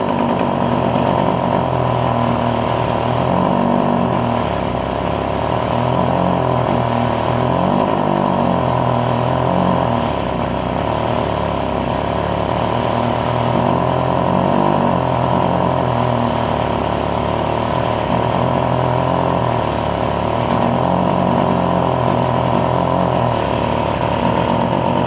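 A Stihl FS45 string trimmer's small two-stroke engine idles steadily and close by, a continuous buzzing drone with slight wavering and no talking.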